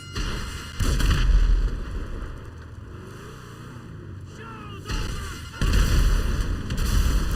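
Missile strikes in GTA 5 Online land as heavy, booming blasts, one early and two more close together near the end, over a continuous low engine-like rumble.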